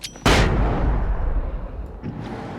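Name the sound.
flashbang grenade exploding in the video game Alan Wake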